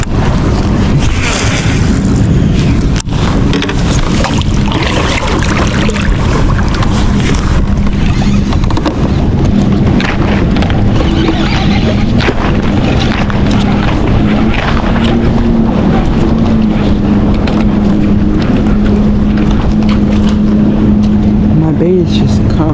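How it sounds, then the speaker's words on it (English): Wind buffets a fishing boat on the Potomac River, a constant loud rumble and gusting hiss on the microphone mixed with water noise and a low motor-like drone throughout. "now we're getting the wind that I kind of wanted"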